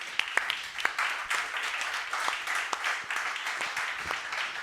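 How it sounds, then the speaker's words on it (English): An audience at a Berlin summit's main stage claps for the event crew. The applause is fairly faint and scattered, with individual sharp claps standing out over a soft, steady wash. "a big applause also for all of them"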